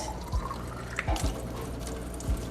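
Water runs into an uncapped lab sample container, a steady close trickle and splash with a few soft bumps and clunks of the container during filling.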